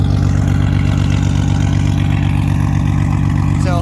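A Nissan Skyline R32 GT-R engine runs loud and close, a steady rough idle with a throaty low rumble that holds evenly throughout.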